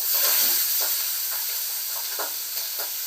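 Pabda fish curry (pabda macher jhal) cooking in a pan, a constant close hiss of steam and sizzle with a few soft stirring scrapes, no voices.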